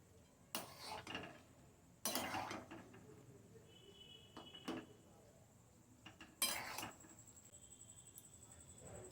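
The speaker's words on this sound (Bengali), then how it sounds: "চাউমিনটা দিয়ে এবার আমি একটু নাড়াচাড়া করে নেব" A utensil stirs chowmein noodles in boiling water in a metal pot, making a few sharp clinks and scrapes with quiet pauses between them against a soft background hiss.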